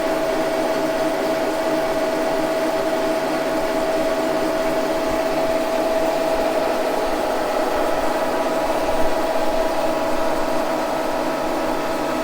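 Wohlhaupter UK4 rotary head on a milling machine taper cutting, a steady loud whirring drone with a sustained tonal whine, continuous and close with no talking.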